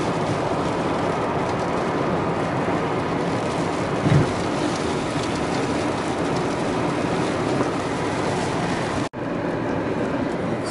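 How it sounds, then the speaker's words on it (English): Steady rain drums on a vehicle during a drive through the upper Colorado Basin near Grand Junction, a dense, even wash of patter that keeps up throughout with no voices. "It's raining in the upper Colorado Basin."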